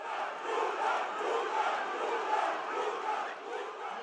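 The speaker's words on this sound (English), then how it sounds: "The ceremony was marked by booing and heckling as supporters of the DP and those of the opposition chief engaged in a shouting match." A crowd of rival political supporters boos, heckles and shouts at a ceremony, a dense continuous roar of many voices at steady loudness throughout.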